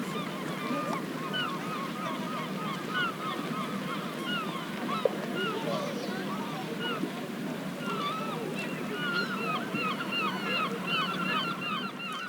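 Gulls calling repeatedly at a beach, a dense chorus of squawks and cries in steady layers over constant surf and wind noise, loud and continuous throughout.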